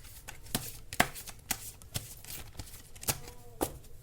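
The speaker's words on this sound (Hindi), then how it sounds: "ये कार्ड्स शफल नहीं हो पा रहे हैं, बहुत बड़े कार्ड्स हैं।" Large tarot cards are shuffled by hand, giving soft riffling and repeated light slaps at a roughly even pace, close and quiet with no talk.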